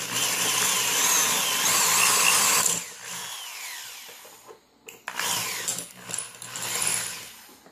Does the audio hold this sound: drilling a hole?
yes